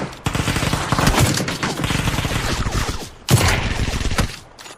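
Rapid bursts of video game gunfire from a war shooter rattle out loud and close, two long sustained volleys separated by a brief pause, with no talk.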